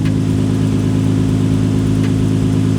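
A Nissan GT-R idles while warming up, a steady, loud mid-pitched engine hum with an even tonal drone and no change in revs, heard alone without talk.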